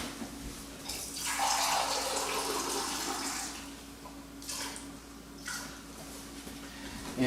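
Filtered water is poured for bread dough, a close, steady splashing stream lasting a few seconds, followed by two shorter trickling bursts.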